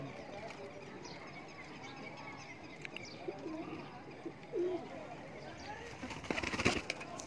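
Pigeons coo softly among racing-pigeon lofts on a rooftop, faint and distant beneath murmuring voices and outdoor background noise, with a brief rustle near the end.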